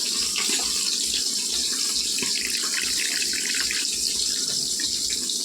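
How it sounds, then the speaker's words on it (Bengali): Water poured into spiced pabda fish curry (jhal) after the masala, turmeric and salt are mixed. A steady, close splashing pour runs the whole time without a break and without voices. "মশলাটা ভালোভাবে মিশিয়ে এটার মধ্যে একটু পরিমাণ মতো জল দিয়ে দিই"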